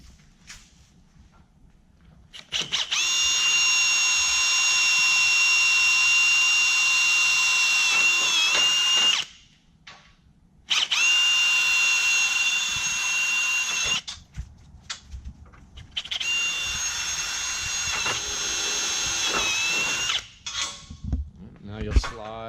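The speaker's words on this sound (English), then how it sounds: "we'll just go through with this pilot bit. Basically an 1/8 inch drill bit will work" A power drill with a 1/8 inch pilot bit bores holes while a Ryder Rack BOLT is installed, giving three long, steady high whines of several seconds each, split by short pauses, loud and close.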